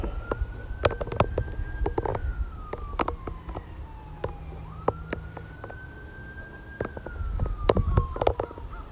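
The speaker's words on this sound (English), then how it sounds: "More sirens." Emergency vehicle sirens wail in the distance, a rising and falling tone sweeping slowly across the clip, heard from a garage over scattered clanks and knocks of work nearby.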